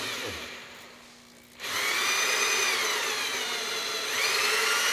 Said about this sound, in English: Masking tape helps mark the surface area of the wind chess where the holes should be drilled to fit their pipes